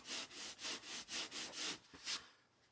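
EVA cosplay foam being hand carved and shaped makes about eight quick, rhythmic scraping strokes, faint and close, trailing off into quiet.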